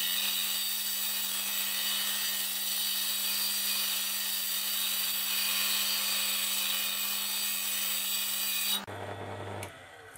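Steady, high whine of a saw cutting a Mooralla geode crystal, close and continuous with a constant low hum, stopping abruptly near the end and leaving quieter tool noise.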